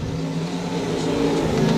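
Race cars roar around a speedway oval at an USRA Nationals heat race at Lakeside Speedway, a dense steady engine drone that swells slightly as the pack passes.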